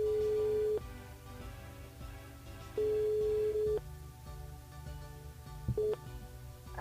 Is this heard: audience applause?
no